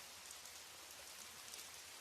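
Rain falling outside during a camping night: a steady, soft hiss of rainfall heard faintly and evenly throughout, with no talk.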